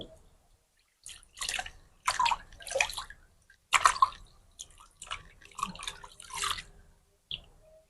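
Water splashes and drips in separate bursts as feet are washed in a soaking basin during a reflexology foot treatment. The splashing is fairly quiet and close, with short pauses between the sloshes.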